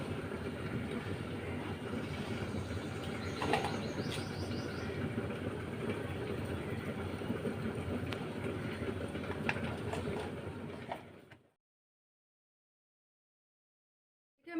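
White and black mustard seeds with green chillies ground into a fine paste in a mixer grinder: a loud continuous whirring, rattling grind that runs steadily, then abruptly stops into silence.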